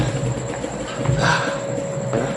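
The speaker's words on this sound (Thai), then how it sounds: "ถึงสถานีรถไฟแล้ว" Train station ambience with a steady rumbling hum of a nearby train and a constant mechanical drone, with no voices.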